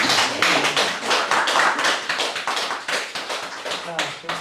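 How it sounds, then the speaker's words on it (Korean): Audience applauding at an artist talk in a Busan photo gallery: brisk, dense clapping from a small crowd, loud and close, with voices mixed in throughout. "박수 한번 주시죠"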